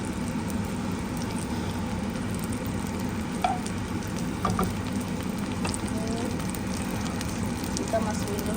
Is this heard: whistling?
no